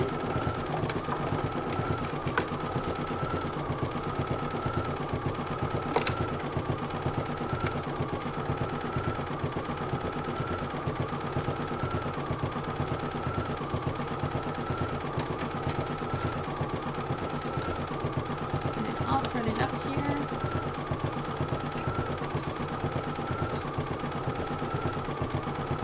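An embroidery machine stitching with blue thread from a jumbo bobbin runs in a steady, fast mechanical rhythm that hums on without pause.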